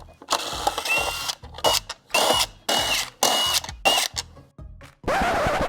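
A power tool whirs in repeated short bursts while backing out 6-7 millimeter screws holding the grill of a 2014-2019 Cadillac CTS, each run stopping and starting in a quick rhythm, close and fairly loud.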